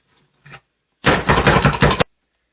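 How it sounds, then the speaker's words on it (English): An electric food chopper dices onion in one loud, continuous whirring, rattling burst of about a second, preceded by a couple of faint taps. "I'm going to use our food chopper, perfect for onions"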